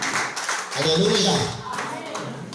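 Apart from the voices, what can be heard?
congregation clapping hands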